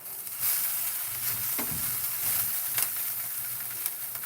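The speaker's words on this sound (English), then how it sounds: "even if I turned off the heat on this, it's still burning my onions" Onions sizzle and burn in a hot pan during live cooking, a steady close hiss and crackle with occasional sharper pops and a stir, no talking.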